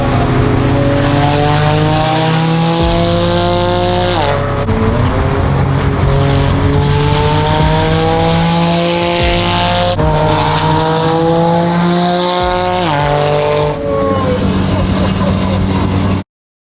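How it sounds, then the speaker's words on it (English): A loud Porsche sports car drives past near a cars-and-coffee meet in San Diego, its engine revving and shifting through gears with rising and falling pitch, tire squeal in places, and some talk underneath. "the loudest Porsche in the world"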